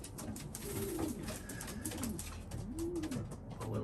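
Racing pigeons, mostly sprint birds, cooing in a loft: three or four soft rolling coos rising and falling over a steady background hiss, moderately near and fairly quiet.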